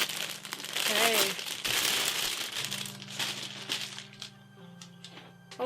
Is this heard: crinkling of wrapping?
yes